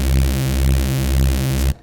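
A Serum Reese bass synth with its mids and high mids scooped out by EQ holds a loud, thick, steady low drone that wobbles slowly in a regular pulse, then cuts off abruptly near the end.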